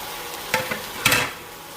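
A spoon stirs potato and bottle gourd masala curry with cooked-down tomatoes in a pan, two quick, quiet scraping strokes over a soft background hush.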